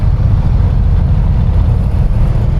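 A Ducati Scrambler 1100 Pro motorcycle engine pulls hard with a loud, deep, continuous rumble that is close and unbroken, with no speech over it.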